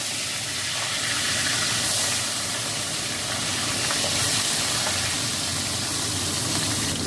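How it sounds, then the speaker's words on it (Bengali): Fish frying in hot oil in a kadai gives a steady, loud, broad hiss and sputter that holds evenly from start to finish, with no talking. "আমি এবার মাছগুলো এক একে ভেজে নেব।"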